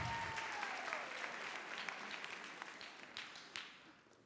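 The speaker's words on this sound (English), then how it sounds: "Give Mr. Reese a round of applause" An audience at a high school freshman night applauds a presenter, a soft, distant spread of clapping that slowly thins out, with a few louder claps near the end.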